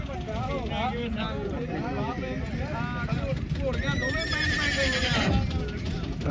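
A horse whinnies amid a busy crowd at a Dussehra livestock fair in Sri Muktsar Sahib, with many voices talking over steady outdoor noise.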